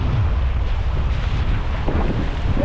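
Strong wind buffets the microphone at a seaside fishing spot by an old castle, a constant loud roar with low rumbling gusts and faint surf underneath, no voices.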